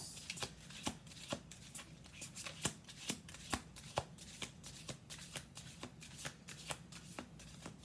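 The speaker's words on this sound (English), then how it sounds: "we're going to do 2 more shuffles." Tarot cards being shuffled close up, a run of quick crisp riffles and taps in a loose, steady rhythm, quiet overall.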